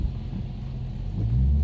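A 2015 Dodge Challenger R/T Plus pulls away on the road, its engine giving a low, steady rumble that swells louder toward the end as it drives off, with no talk over it.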